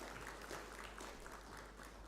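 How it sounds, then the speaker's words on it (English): A gathering at a public service commissions general assembly applauds a professor: faint, distant, steady clapping that blurs into a soft continuous wash for a couple of seconds. "A round of applause for Professor."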